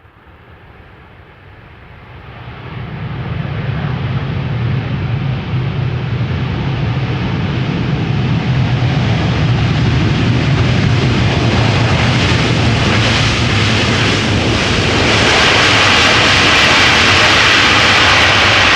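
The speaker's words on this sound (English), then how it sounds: "Delta Airlines flight 74, A350-900, arriving from Atlanta, Georgia. Touching down after 7 hours and 38 minutes of flight." A Delta Airlines Airbus A350-900 arriving from Atlanta touches down at Amsterdam Schiphol Airport, its jet roar swelling from quiet into a loud, steady rumble and broad rush that holds for many seconds.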